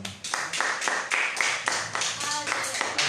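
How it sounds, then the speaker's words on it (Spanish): A church congregation claps hands together in a steady, rhythmic beat, loud and full, with voices and music running underneath. "Denle palmas fuertes al Señor."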